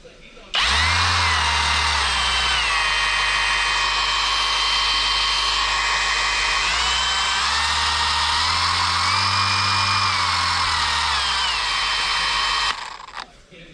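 A Shinemate EB210 cordless rotary polisher runs alone with a steady, close electric motor whine for about twelve seconds, its pitch dipping and rising slightly as the speed shifts.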